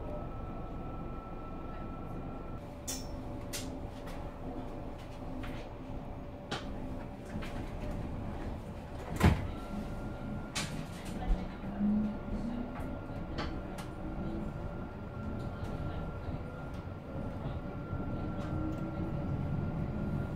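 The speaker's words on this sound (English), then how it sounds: "This train is for London Waterloo." Steady low rumble of a train heading to London Waterloo, having just passed Sunningdale, with continuous rolling noise inside the carriage and a few brief sharp clicks and knocks over the top.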